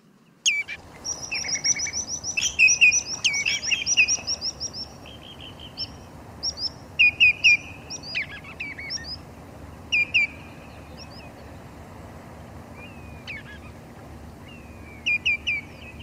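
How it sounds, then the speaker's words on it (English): Common redshank calling on a coastal estuary: a series of clear, ringing piping notes in short bursts and paired phrases, fairly near, repeated irregularly over a soft steady background hiss. "common sound on the coast and on the estuaries for common Red Shank"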